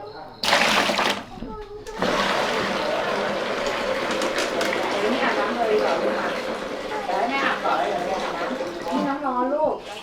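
Herbal water scented with pandanus leaves is poured for a bath in a village home, a continuous splashing pour broken by brief gaps, with people talking over it.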